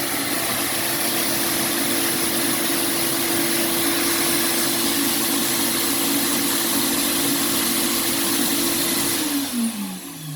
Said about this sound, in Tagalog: Bumugal ng hangin yung vacuum.